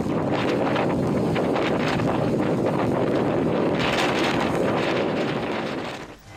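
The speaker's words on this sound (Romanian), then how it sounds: "Vestul Europei este măturat de o furtună cu vânturi puternice de peste 200 km pe oră și ploi" Strong storm winds in Western Europe, gusting at over 200 km/h with heavy rain, roar as a loud, continuous broadband rush buffeting the microphone, easing slightly only at the very end.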